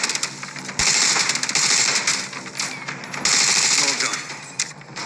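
SMG fire rattles in The Division Resurgence video game, in dense rapid bursts of close, loud shots separated by brief pauses, with a voice talking over the gunfire.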